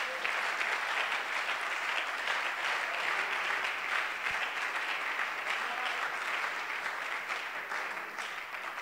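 A church congregation applauding during a sermon, with loud sustained clapping from a large crowd that carries on throughout and fades slightly at the end.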